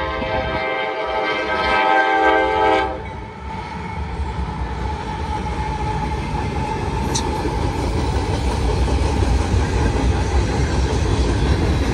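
A freight ethanol train led by a CP ES44AC locomotive passes close by, opening with a loud, sustained horn blast that gives way to the continuous heavy rumble and rattle of rolling cars.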